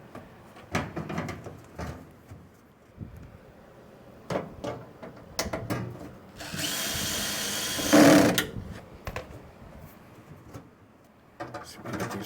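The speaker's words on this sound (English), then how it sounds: "So we get these screws back in." A power drill drives screws back into a Maytag dryer, one sustained whirring burst of about two seconds amid scattered clanks and handling of metal panels, close by.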